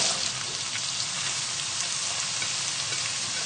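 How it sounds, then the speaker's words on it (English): Onions and celery sizzle in melted butter in a pan while turkey curry is cooked, giving a loud, steady, close frying hiss throughout with no talk. "We can add in the onions and the celery."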